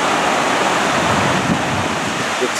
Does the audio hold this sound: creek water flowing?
yes